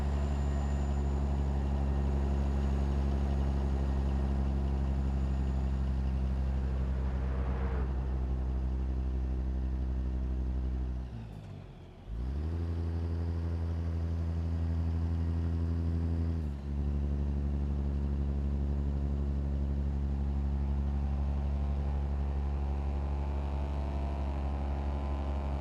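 A Kenworth W900 truck idles in American Truck Simulator with a deep, steady diesel rumble that runs unbroken. The engine briefly drops and dips near the middle before settling back into a constant idle, and no one speaks.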